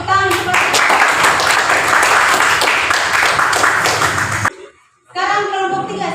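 Classroom applause for a student after a presentation: dense, steady clapping from a group that fills most of the moment, then cuts off abruptly, followed by a brief pause and a voice speaking.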